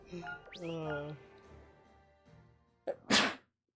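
A single sharp sneeze bursts out near the end, close and loud, following a stretch of casual talk.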